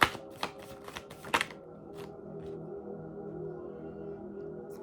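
Tarot cards drawn from a deck: a quick run of crisp riffling, flicking snaps at the start, then a few lighter taps and a quiet room hum.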